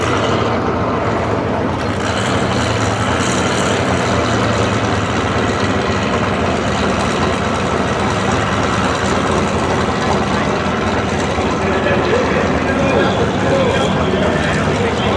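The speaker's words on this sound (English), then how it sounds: "now we're gonna watch Steve, the Grand National" A Buick Grand National's engine idles steadily and loudly throughout, a continuous low rumble with voices talking over it at an outdoor race week event.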